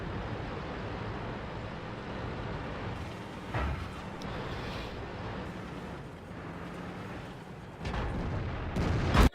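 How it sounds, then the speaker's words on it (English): Artillery fire in the video game World of Tanks, a heavy low rumble with a few distinct booming blasts, including a sharp loud hit near the end. "But it didn't help because our artillery takes him out."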